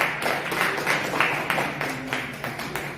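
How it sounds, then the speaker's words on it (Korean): An audience at a book concert applauds to welcome a guest, a short burst of dense clapping that rises and then gradually thins out. "여러분 다시 한번 큰 박수로 환영해 주십시오."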